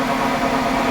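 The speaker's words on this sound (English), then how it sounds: "as you can hear, the engine is running" A Ford Freestyle engine idles with a check engine light on and an O2 sensor heater circuit fault, giving a steady, even low hum with a constant mechanical drone and no talking.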